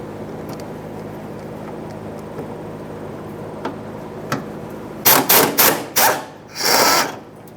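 Impact wrench spinning out the 14mm fuel tank strap mounting bolts on a 1992-1996 Toyota Camry, heard as several short, loud rattling bursts close by near the end, after a stretch of quiet workshop background with a few faint knocks.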